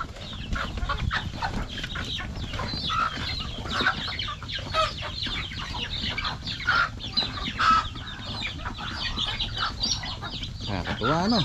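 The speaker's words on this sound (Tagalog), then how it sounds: "Yung mga manok." Chickens and ducks on a farm cluck and chatter steadily at close range, with overlapping calls that rise and fall continuously against an outdoor background.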